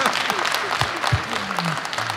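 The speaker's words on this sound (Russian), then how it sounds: "абсолютно заслуженные аплодисменты, и даже стоя" An audience claps steadily in a dense burst of applause, fairly close, with faint voices mixed in.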